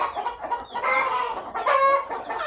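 Three-to-four-month-old chickens of a fighting breed, close and loud clucking and squawking calls in quick irregular bursts over about two seconds, with no talk.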